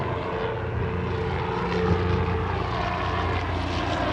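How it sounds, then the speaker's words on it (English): Steady low mechanical drone of an aircraft overhead, swelling slightly midway and holding constant, a helicopter passing at moderate distance with no talk. "the helicopter just went by"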